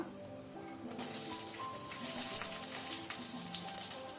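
Onions and methi seeds with hing sizzle steadily in hot oil over a medium flame for breadfruit palya, a soft continuous frying crackle with no talking.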